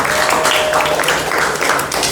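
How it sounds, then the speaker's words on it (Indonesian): Classroom applause for the first student group, a brief burst of many hands clapping close by, dense and fairly loud for a couple of seconds. "Tepuk tangan untuk kelompok pertama"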